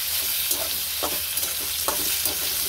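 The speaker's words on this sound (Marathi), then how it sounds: "हे बघा, हे वांगे झाले फ्राय." Brinjal pieces frying in a pan with turmeric, a close continuous sizzle broken by several short scraping strokes as the spatula stirs them.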